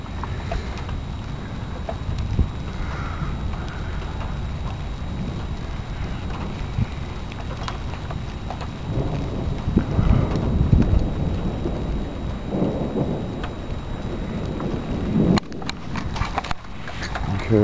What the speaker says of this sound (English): Pretty big drops coming down